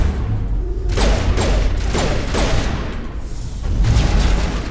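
Grenade blast in the video game Mass Effect 1, a series of loud booming bursts with rumbling low end and crackling debris, repeating over several seconds amid ongoing combat noise.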